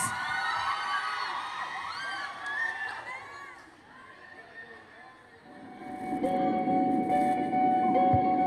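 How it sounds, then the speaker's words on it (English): An audience of a school class event cheers, whoops and shouts in a large room, with youthful voices rising in excitement and then a fuller roar of applause and crowd noise building toward the end. "Let's give them a round of applause."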